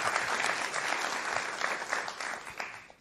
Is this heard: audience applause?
yes